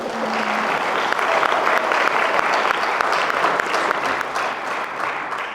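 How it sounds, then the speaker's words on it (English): Audience at a congressional town hall in Anchorage gives the moderators a steady, dense round of applause, a loud continuous patter of many hands that holds evenly, then eases slightly at the end. "and can we give them a round of applause, please?"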